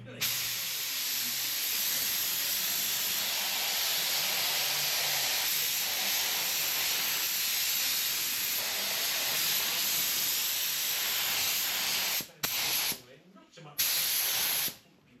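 Spray gun hissing steadily as it lays coats of paint on a Porsche Cayenne Hybrid in a paint booth, a loud continuous spray for about twelve seconds before it cuts off in short bursts near the end.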